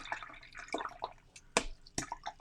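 Brush rinsed in a water cup during painting, with faint drips and splashes and a couple of sharper sloshes, close and quiet with no talking.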